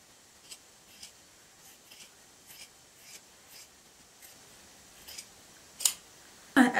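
Scissors snipping as the seams of a sewn retro-style winter coat are trimmed and the corners notched: a series of short, faint clicks spaced about every half second, ending with two louder snips.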